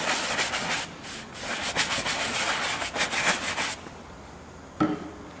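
A damp cloth wipes across a leather sofa in brisk, repeated rubbing strokes that produce a close, scratchy swishing. The strokes fall silent after a few seconds, and one more short rub follows.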